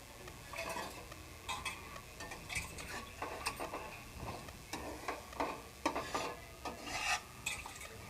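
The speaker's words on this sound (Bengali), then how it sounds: "নেড়ে দিচ্ছি।" Onions frying in a pan are stirred with a utensil, giving soft, irregular scraping and rubbing strokes over a faint sizzle. The sound is quiet and close, with no talking.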